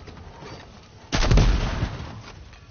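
Gunfire in Fortnite aimed at an armored battle bus bursts out loud and close after a quieter stretch, rattling for about a second before fading.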